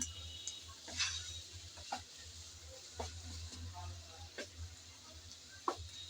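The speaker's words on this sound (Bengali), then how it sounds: "ভালোভাবে নেড়ে চেড়ে তেলের মধ্যে ভেজে নিচ্ছি" Taro stolons frying in hot oil while being stirred in a pan, giving a faint low sizzle with scattered scraping and clinking taps from the spatula, close and quiet under the rest of the kitchen.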